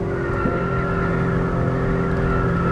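A Ferrari 458 Italia engine drones steadily and loudly from inside the car on a race track at Exotics Racing in Las Vegas, a sustained, even tone that holds without breaks and carries no talk.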